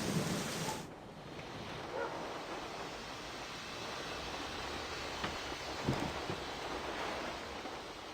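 A steady thunderstorm in Syberia: The World Before, with a dense wash of heavy rain and a low rumble of thunder running throughout, with no speech.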